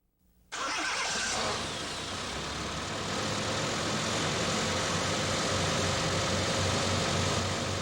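A car engine is cranked by its starter motor and catches after a brief click, then settles into a loud, steady running roar close by, with no voices.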